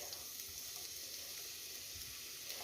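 Steady, gentle sizzling of onion frying in hot oil in a pan, continuous crackle with no voices.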